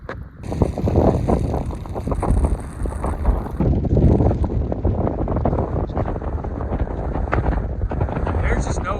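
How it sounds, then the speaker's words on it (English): Strong wind rips through a canyon on a road trip, roaring and buffeting a microphone loudly and continuously for several seconds, with a voice speaking under the gusts. "There's just no escaping the wind. It's ridiculous. It's coming, it's ripping through this canyon."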